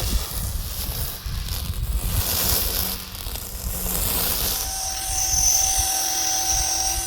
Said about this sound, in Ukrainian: Дивіться, як гарно косить. Сама топова косарочка лідер.